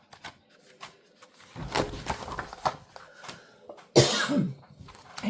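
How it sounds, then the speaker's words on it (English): Single person coughing close up: a couple of rough coughs and throat clearing between faint paper shuffling, ending with a loud harsh cough. "Sorry, I had to cough."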